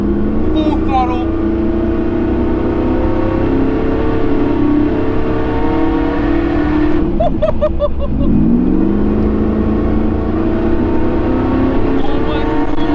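A 600 hp supercharged LSA V8, the engine from VF GTS HSVs, fitted to a Toyota FZJ80 80 Series Land Cruiser, roars at full throttle with a sustained loud drone, rising and falling revs, and a whine from the supercharger.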